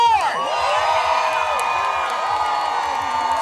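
Hotel night-show audience at Grand Bahia Principe cheering, whooping and shouting for contestant number 4, a dense continuous crowd roar with high excited voices, loud and close throughout.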